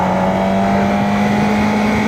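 A 750 motorcycle with its stock 2014 exhaust runs at a steady, droning engine note, loud and close, with wind noise during riding.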